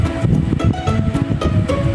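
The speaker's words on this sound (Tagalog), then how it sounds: "Kaso puro hangin lang talaga." Strong wind roars steadily across the microphone, a loud broadband rush with gusty surges and no clear voices.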